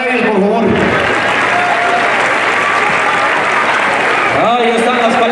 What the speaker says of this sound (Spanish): El aplauso para ellos, por favor.